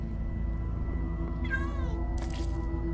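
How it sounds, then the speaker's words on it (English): Cats meowing in the Minecraft Story Mode video game: two distinct mews, a wavering one in the middle and a sharper one shortly after, over a steady low game hum with no talk. "There's so many cats!"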